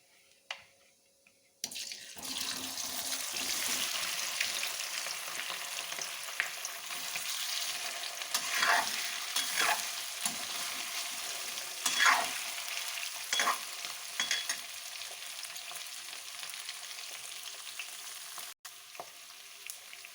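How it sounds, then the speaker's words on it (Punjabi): Potatoes tipped into hot oil with fried cumin seeds, a sudden burst of sizzling after a quiet start that holds steady and close for nearly twenty seconds, with occasional spatula scrapes before it cuts off. "ਜੀਰਾ ਵੀ ਸਾਡਾ ਫਰਾਈ ਹੋ ਗਿਆ ਏ ਹੁਣ ਅਸੀਂ ਇਹਦੇ ਵਿੱਚ ਆਲੂ ਪਾ ਦਾਂਗੇ"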